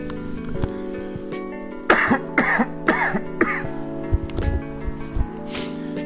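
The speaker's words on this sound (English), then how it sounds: "I just need to cough, and I don't want to cough directly into the mic." A run of four harsh coughs in quick succession near the microphone, followed by softer throat sounds over a faint background hum.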